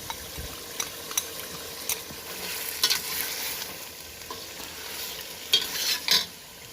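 Red chilli powder sizzles in hot oil for an aloo gosht masala while a spoon stirs it, giving soft continuous frying hiss with scattered scrapes and a few louder stirring bursts near the end.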